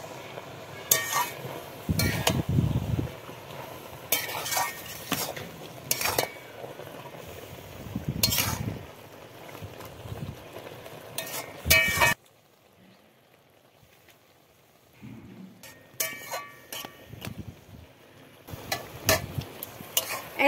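Leafy greens are stirred into a simmering curry, producing intermittent bursts of spoon scraping and clinking against the pot, with a quiet pause midway before the stirring resumes; no talking.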